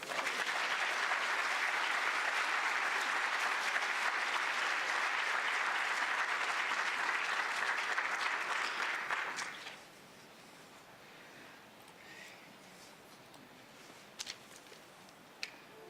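Sustained applause from a history conference audience fills the first ten seconds at steady, full volume, then breaks off into a quiet room with a few faint scattered claps and small knocks.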